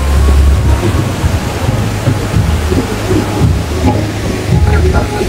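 The Tokha Jhor waterfall roars as a dense, steady rush of falling water, loud and close with heavy low rumble and wind buffeting the microphone.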